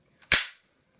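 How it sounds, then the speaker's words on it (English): A pistol slide snapping forward during reassembly of an emptied handgun, one sharp, close metallic clack after a faint click, then silence. "Hold it back, lock back."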